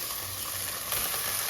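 Fish fries in hot oil in a pan, giving a dense, steady sizzle up close with a brief stirring scrape partway through.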